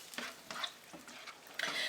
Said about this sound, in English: the pot broth is starting to boil again